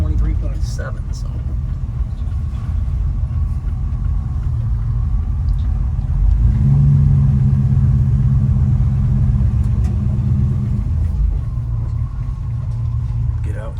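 A 1968 Chevrolet C10 pickup with a 327 V8 on the road, a steady loud low cabin rumble and engine drone that deepens into a stronger hum midway, with someone talking over it.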